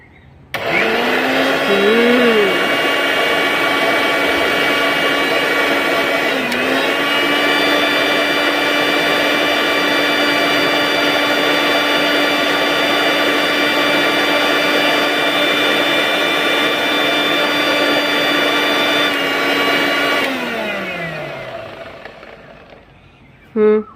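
An electric grinder machine running steadily in a home kitchen, a loud continuous whine that starts, dips briefly once, holds for about twenty seconds, then winds down and stops.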